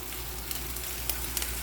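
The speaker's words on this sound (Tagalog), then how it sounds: "Lutuin lang muna natin yung sibuyas at saka bawang bago natin ilagay yung isaw." Onion and garlic sautéing in hot oil for adobong isaw, a steady close sizzle with a few soft crackles and pops.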